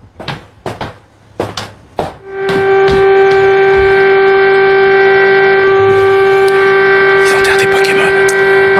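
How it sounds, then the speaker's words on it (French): A few sharp knocks, then a loud, sustained memorial siren tone starts and holds steady, with faint distant noise underneath. "Vous entendez ces sirènes qui ont résonné pour rendre hommage aux 3326 morts"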